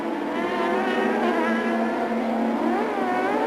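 Onboard Adrian Fernandez's 1998 CART race car at Laguna Seca, the engine screams loudly and continuously with rising and falling revs as the car builds heat into its tyres.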